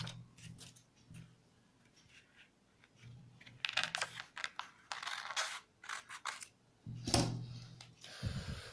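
Scissors cut through blouse fabric in short, crisp snips and rustling scrapes, quiet and close, coming in irregular bursts with pauses between.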